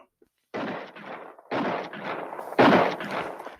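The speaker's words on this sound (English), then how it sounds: "Suddenly, I heard shots far ahead of me." Three separate bursts of gunfire, an audiobook sound effect meant as shots far away, each a rough crackling rattle lasting about a second against silence.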